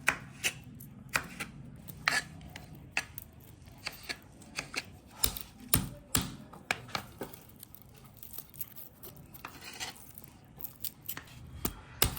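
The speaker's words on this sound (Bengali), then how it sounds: "আজকে মাছ ভাজা রসুন এরকম থেতো থেতো করে কুটে কুটে দেবো" Garlic being crushed and chopped with a knife on a board, a long run of sharp, irregular chops, close and fairly quiet, with no talk.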